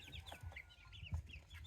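Several farm chickens cluck softly and repeatedly nearby, a quiet, uneven chatter of short calls against low background noise.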